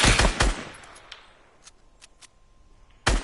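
Video game machine-gun fire in a burst of rapid, loud shots at the start, a few scattered shots in the middle, then another sharp burst at the end.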